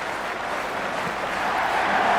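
Steady, dense crowd noise, applause and cheering from the stands in the cricket video game Cricket 26 during a T10 match, swelling slightly toward the end.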